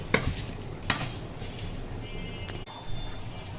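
Polao rice being fried in a pan with ghee for a vegetable polao, giving a soft, steady sizzle broken by a few sharp clinks and scrapes of stirring at close range, with no talk.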